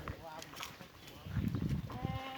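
Goats in a herd bleating, several wavering calls at moderate distance, faint and intermittent over low background rumble and soft handling noise.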